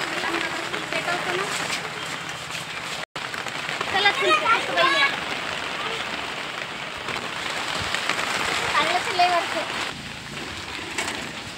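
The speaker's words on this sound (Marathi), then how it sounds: "भरपूर पाऊस येऊ राहिला आता." Heavy rain falls steadily for the whole stretch, a dense constant hiss that stays loud throughout, with a short dropout near the start and voices speaking faintly in the background.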